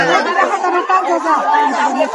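A dense crowd of worshippers at the Tuljabhavani temple in Tuljapur chatters all at once, a close and loud wall of overlapping voices with no single speaker standing out.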